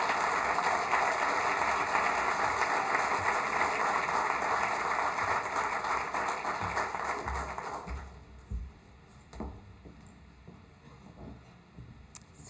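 Loud, sustained audience applause at a Board of Education Distinguished Service to Public Education awards ceremony, steady dense clapping that thins out after about eight seconds into scattered claps and quiet.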